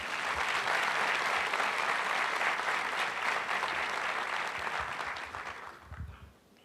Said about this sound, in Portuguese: Quem entendeu essa primeira parte, aplauda o seu Jesus.